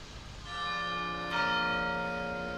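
Church bells at the Braga sanctuary in Portugal ring out close and loud, a sustained resonant tone joined by a second strike about midway, their rich overtones lingering.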